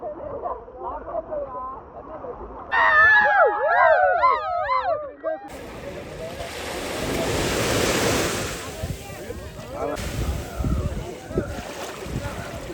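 Ocean surf rolls onto Shivrajpur beach, a steady broad wash of waves with wind buffeting the microphone; a voice sounds briefly early on, then the surf continues alone, swelling and fading.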